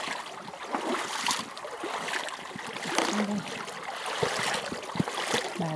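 A person in boots wades across a river at sunset, with sloshing water and splashing steps under a faint, steady stream of running water, all fairly quiet.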